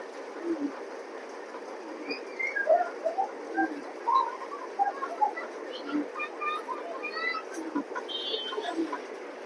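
Racer pigeons coo now and then amid a busy loft, with scattered chirps and rustling and light background noise, the calls fairly close but soft.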